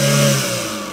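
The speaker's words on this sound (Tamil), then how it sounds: "பாருங்க ரேஸ் பண்ணா வண்டி சுத்தமாக இருக்குங்க." Close-up petrol engine of a used car in good condition, revved so that a strong humming drone fades and settles back toward idle within about a second, with no one talking.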